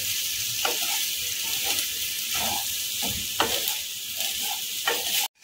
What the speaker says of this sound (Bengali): ভালো করে নেড়ে চেড়ে সব কিছু আমি মিশিয়ে নিচ্ছি।